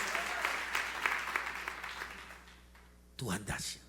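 A church congregation clapping together in a sustained round of applause that gradually thins out, followed by a voice speaking loudly over the fading claps.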